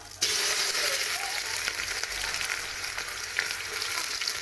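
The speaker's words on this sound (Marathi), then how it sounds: "आता मी जिरं आता टाकते मी कांदा" Cumin seeds and chopped onion frying in hot oil for a home-cooked sambar, a loud, steady, close sizzle that runs unbroken from start to finish with no voices.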